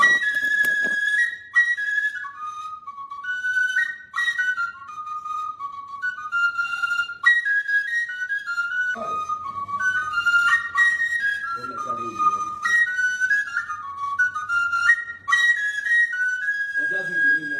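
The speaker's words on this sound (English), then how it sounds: "This Oja sweet die." An oja, the Igbo wooden flute, plays solo in a bright, breathy whistling melody of short trilled phrases and held notes, close and clear, with a faint low murmur briefly underneath.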